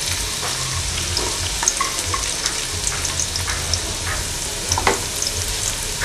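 Onion and garlic sizzle steadily in a hot pan for shakshuka while a utensil stirs them, with scattered scraping and crackling over a continuous close frying hiss and no speech.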